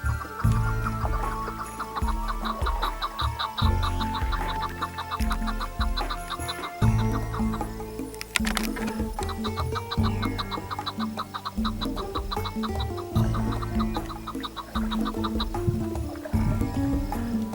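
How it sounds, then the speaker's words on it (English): Chukar partridges call repeatedly in the Owyhee Desert, a steady run of rhythmic clucking chuck notes at close to moderate distance, continuing without pause over a bed of background noise. "us with his little chucker calls"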